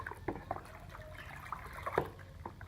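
Medicine for chicken respiratory disease (CRD) being stirred into water, giving soft liquid swishes with a few brief clinks and drips, fairly quiet and steady over a couple of seconds.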